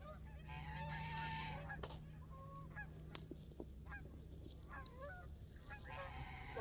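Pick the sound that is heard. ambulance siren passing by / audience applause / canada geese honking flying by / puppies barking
canada geese honking flying by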